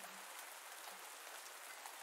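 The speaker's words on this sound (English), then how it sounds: "it's still raining" Steady, soft rain falling in the farming video game Pumpkin Days, a faint, even hiss of drops with no voices and no breaks.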